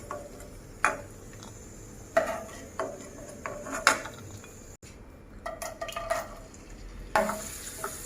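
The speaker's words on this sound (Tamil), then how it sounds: "எடுத்து போட்டு ப்ளம்ஸை பொரிச்சு எடுத்துருவோம்." Raisins frying in ghee in a pan, heard as a soft background sizzle broken by sharp ladle taps and clinks against the pan at irregular intervals; close, no talking.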